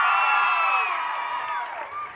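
A large crowd of Stanford graduates cheers at a commencement ceremony, a dense, sustained roar of voices and whoops that stays loud throughout and eases slightly toward the end.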